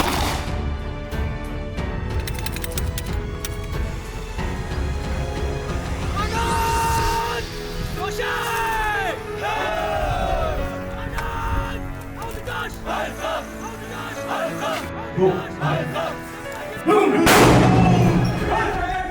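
Pistols fire on a BSF academy firing range during drills, with loud gunshots, bangs and crackling bursts mixed with shouted commands and background noise.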